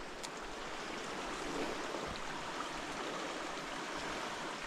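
Mountain river in South Carolina flowing in a continuous soft rush of water, steady and moderately distant, with no voices.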